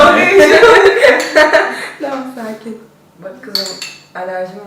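A metal spoon clinks and rattles against dishes in a series of quick, close, bright strikes, with people laughing and chattering around it.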